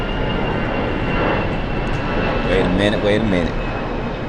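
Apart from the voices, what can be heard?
airplane flying overhead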